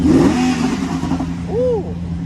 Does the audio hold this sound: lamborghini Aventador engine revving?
yes